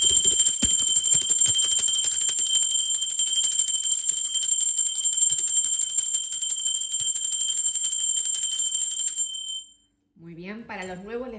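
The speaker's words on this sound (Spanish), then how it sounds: "Murci, va campana" A high, sustained metallic bell rings steadily for about nine seconds during a tarot reading, then stops abruptly. A voice begins speaking softly just after the ringing ends.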